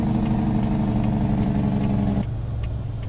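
Engine brake on a Kenworth K100 truck in American Truck Simulator: a loud, even, rattling diesel drone that cuts off abruptly near the end, leaving a quieter engine hum.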